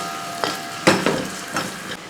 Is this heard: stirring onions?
yes